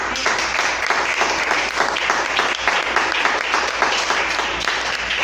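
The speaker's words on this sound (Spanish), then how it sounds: "Dale un aplauso." A church congregation applauds during a worship service, a dense, steady wash of many hands clapping together at close range for about five seconds with no voices rising above it.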